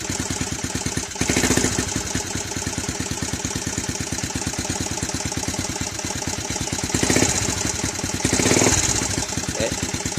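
A Yamaha Vixion motorcycle engine, in the context of a radiator and an engine running hot, runs with a rapid, even mechanical pulse, close and steady, swelling briefly when the throttle is blipped a few times.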